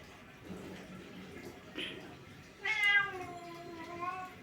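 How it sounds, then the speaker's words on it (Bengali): A cat meows inside a house: one long, drawn-out, fairly close meow rises out of quiet indoor background noise partway through. "বিড়াল একটা খালি ম্যাও ম্যাও করে ঘরের ভিতরে"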